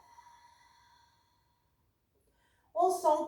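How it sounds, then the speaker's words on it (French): A single audible exhale during a yoga sun salutation, a short breathy sigh that comes close and clear after a quiet pause, following soft sustained tones from earlier. "Puis, expire."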